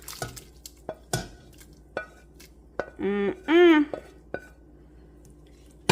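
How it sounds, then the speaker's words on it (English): A spoon stirs collard greens with smoked turkey in a cooking pot, making sharp metallic clinks and scrapes spread across several seconds, with a short burst of speech in the middle. "And give this a stir."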